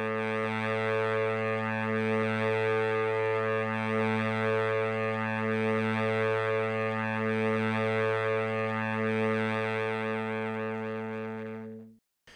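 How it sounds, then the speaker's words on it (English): A sustained saxophone drone sample played back in Tidal Cycles, a steady rich harmonic tone held loud and unbroken for about twelve seconds before cutting off abruptly. "So it just sounds like a drone of a saxophone."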